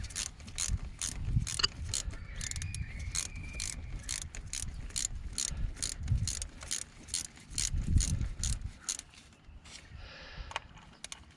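A ratchet loosens a 7mm bolt on a 2003 Volvo XC90, giving rapid repeated clicking in bursts with brief pauses, close but fairly quiet, with some faint clanks of tools.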